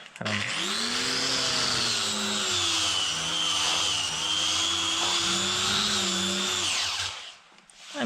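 A coral grinding disc on an angle grinder sands wood with a loud, steady whine that holds for about seven seconds, then winds down and stops.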